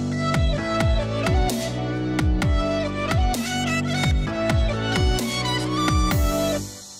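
Full EDM drop built from scratch in FL Studio, with punchy kick and snare, no hi-hats, a sustained synth and a chopped vocal sample repeating in a steady loud pattern, ending as the mix thins out.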